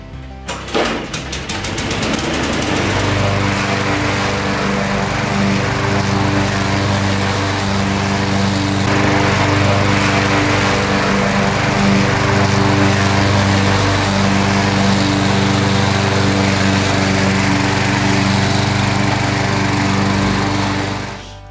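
A Craftsman 6.75 HP push lawn mower with a 21-inch cut runs steadily after starting, its small engine droning loud and close with a constant hum and no talking.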